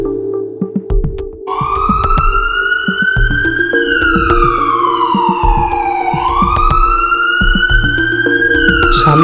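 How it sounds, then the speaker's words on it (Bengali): An ambulance siren wails loudly and close in a continuous rising and falling tone over traffic rumble, used as a sound effect in a dramatized story. "একটা অ্যাম্বুলেন্স প্রবল আওয়াজ করে যাচ্ছিল"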